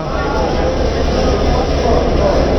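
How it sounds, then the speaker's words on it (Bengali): A train on the Dhaka to Cox's Bazar route pulls into a station platform, filling the space with a loud, continuous, close rumbling roar that holds steady throughout. "আমাদের ট্রেন এখন প্ল্যাটফর্মে চলে আসছে"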